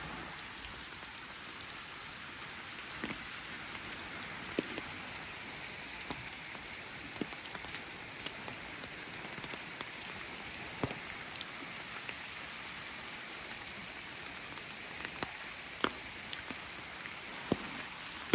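Rain comes down steadily on a hiking trail by a creek and small bridge in Pacific Palisades, a continuous hiss dotted with close, sharp drips and taps.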